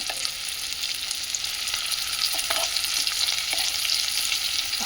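Masala paste hits sautéed onions in a pan and frying erupts into a loud, steady, bright sizzle that holds without a break, with a few soft spoon scrapes and taps and no talking.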